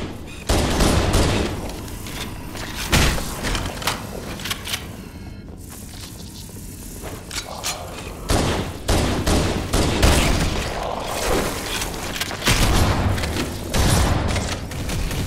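Gunfire in the video game Halo: Combat Evolved, loud bursts of rapid shots and booms in clusters across the stretch, with a short quieter pause in the middle.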